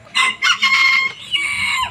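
A chicken clucks and squawks loudly up close in a few quick bursts, with a short pause before a final drawn-out call.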